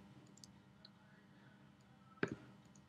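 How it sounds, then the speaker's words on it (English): One crisp, close mouse click stands out against quiet room tone near the end. "we can click the Create Project button."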